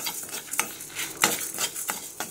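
Spices such as coriander dry roast in an empty pan over a medium flame, stirred with quick, rhythmic scraping strokes roughly every third of a second, close and fairly loud with a light rustle between strokes.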